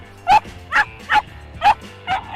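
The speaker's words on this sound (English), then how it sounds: "The Karelian bear dog." A Karelian bear dog barks five times in evenly spaced, sharp, close barks with short gaps between them.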